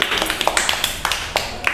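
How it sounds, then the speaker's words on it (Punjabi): Children clap in a classroom during a Punjabi lesson, several quick scattered claps ringing out close by, with light voices murmuring underneath. "ਸ਼ਾਬਾਸ਼ ਤਾੜੀਆਂ ਮਾਰੋ ਸਾਰੇ ਬੱਚੇ"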